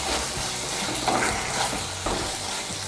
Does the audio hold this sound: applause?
no